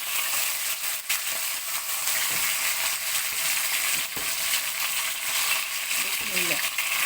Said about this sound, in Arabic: هننزل بكميه اللحمه بتاعتنا كلها.